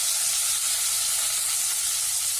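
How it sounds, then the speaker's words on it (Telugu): Tomato, onion and green chilli hitting hot oil with curry leaves for a radish sambar, a dense, loud, hissing sizzle that stays steady through the short stretch, nearby and without voices. "కరివేపాకు చిప్పర్లాడిన తర్వాత మనం టొమాటో, ఆనియన్ అండ్ పచ్చిమిర్చి వేస్తున్నాం."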